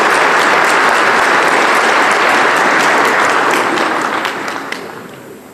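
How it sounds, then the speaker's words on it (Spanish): Sustained audience applause after a presentation at an economics lecture, a dense, loud wash of many hands that holds steady for several seconds, then begins to taper off toward the end. "Les pido un aplauso"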